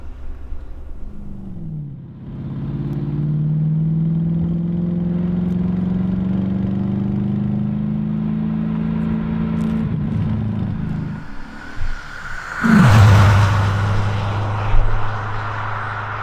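A 1985 Porsche 928 V8 engine drones steadily while driving, holding a constant pitch for most of the run before a brief lift, then a louder surge as the revs climb again near the end.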